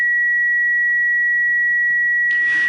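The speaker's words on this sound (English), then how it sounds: "we're getting there a nice sine wave, which is the output from the speaker being then picked up by the microphone itself" A steady pure sine tone played from a loudspeaker and picked up by a microphone, constant and unwavering throughout, with a soft burst of noise near the end.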